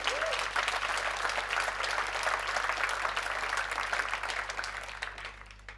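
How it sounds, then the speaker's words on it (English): Sustained applause from a conference audience, dense and even clapping that holds steady throughout and tapers slightly at the end, with a low steady hum beneath. "just a round of applause for them"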